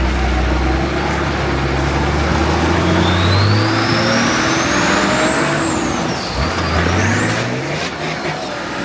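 A 4WD vehicle's engine revs loudly on a dirt track in the high country near Walhalla, pitch rising and falling through gear changes in a continuous close drone with rumbling low end.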